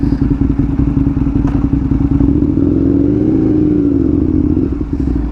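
An Aprilia RSV1000R motorcycle engine runs loud and close with a steady, throbbing drone. The pitch swells slightly partway through, then settles back.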